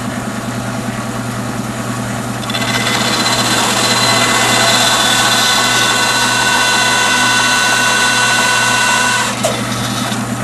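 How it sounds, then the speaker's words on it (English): A bandsaw starts up and cuts a slot in a wooden eyeglasses holder: a steady motor hum jumps to a louder, brighter whine and holds for several seconds before easing back near the end. "And now I'll turn on the bandsaw and cut that slot."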